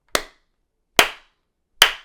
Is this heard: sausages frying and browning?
no